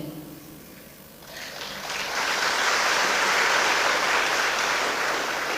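An audience at a spiritual retreat centre breaks into applause, starting after a quieter moment with faint voices and swelling into a loud, dense, sustained roar of clapping from a large crowd.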